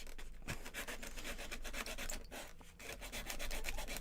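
Wooden edges are sanded by hand, giving a close, quiet, rhythmic rasping of repeated short strokes, with brief pauses between some passes.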